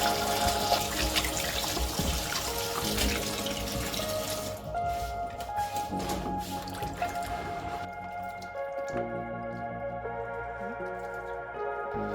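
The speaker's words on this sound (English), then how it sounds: "I'm changing that water again." Water runs and splashes into a sink for several seconds, then slows to trickles and drips as the flow is cut, with no talking.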